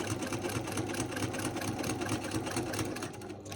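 Sewing machine free-motion quilting crosshatch lines on a quilt block, a steady rapid mechanical whirring with fast needle chatter, close and continuous, slightly easing at the end.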